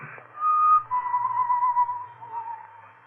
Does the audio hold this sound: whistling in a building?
yes